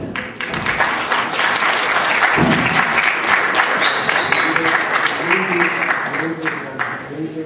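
Sustained audience applause fills a lecture hall as Dr. Andrés Gustavo Loza is welcomed to speak on Latin American neoconstitutionalism, steady and fairly loud, with a voice talking over the clapping.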